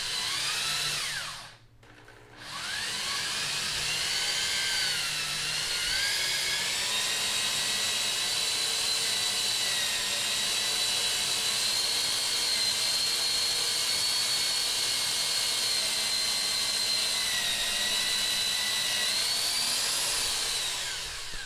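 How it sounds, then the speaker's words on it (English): A drill fitted with a straight-hole guide attachment bores through two clamped, stacked 2x3 wooden boards, giving a steady, loud, high-pitched whine that runs nearly unbroken for about twenty seconds after a brief dip at the start. "So I've gone all the way through one and partially through the other one."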